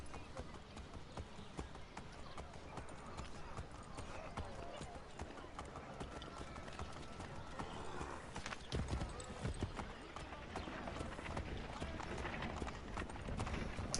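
Horse hooves clip-clop in a video game, a fast, even run of hoofbeats at moderate volume that keeps going throughout, with voices speaking over it.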